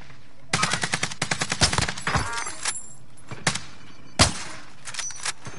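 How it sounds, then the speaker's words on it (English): Rapid bursts of automatic gunfire in a sniping video game, a fast rattling volley up front followed by scattered single shots and a sharp louder crack near the end, with no talking. "Receiving hostile fire."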